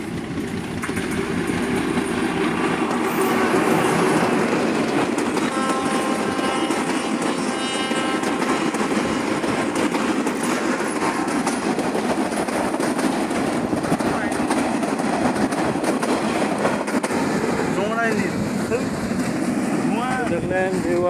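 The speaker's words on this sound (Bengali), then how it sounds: "ঝকঝকাচক ট্রেন আসছে দেখুন।" A train arriving on a railway in the Rangpur countryside, a loud sustained rumble and clatter of wheels on rails that builds up close by, with a horn-like tone near the end.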